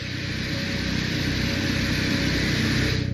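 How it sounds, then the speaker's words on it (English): A steady, low rumbling roar of wind recorded on Venus, dense and unbroken, with a faint mechanical hum running through it for a few seconds. "this is the sound of wind captured on Venus."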